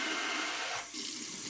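Motion-activated kitchen faucet running in spray mode, a loud, dense hiss of water striking a sink, continuous and close with a brief dip partway through, no voices.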